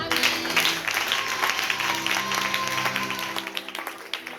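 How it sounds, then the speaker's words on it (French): A church congregation applauds for God during a sermon on family bonds, a broad, steady wash of clapping lasting about three seconds before fading out, with faint musical tones underneath. "Alors acclamez pour Dieu."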